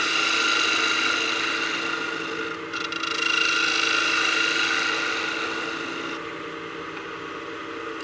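A spindle gouge cuts wood on a lathe with a steady, loud, continuous rasping hiss. The tone dips briefly near the three-second mark, then runs on evenly and softens slightly toward the end, with no talking.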